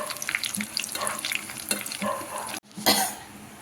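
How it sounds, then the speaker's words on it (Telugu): Four dried red chillies frying in a pan with a continuous crackling sizzle, stirred with a few scraping strokes, a brief drop near the end, then a sharp burst of sizzle. "4 ఎండుమిర్చి అండి వేసుకొని ఇది కూడా బాగా ఫ్రై చేసేసుకొని"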